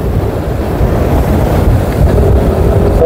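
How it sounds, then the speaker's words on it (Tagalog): Steady heavy wind rumble buffeting the microphone at a cycling race in Pangasinan, loud and continuous low-frequency roar throughout with no talking. "Malakas yung hangin natin ha."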